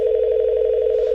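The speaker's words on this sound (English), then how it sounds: "Karen, can you press the key labeled Doug on your phone?" A telephone keypad press gives off a steady, loud electronic tone that holds without a break, heard close and alone.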